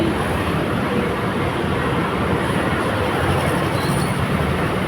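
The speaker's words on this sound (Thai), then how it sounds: "รถไฟฟ้าไปแล้ว" A Bangkok electric sky train passes with a steady, dense rushing roar and faint high wheel squeal, loud and continuous throughout with no speech.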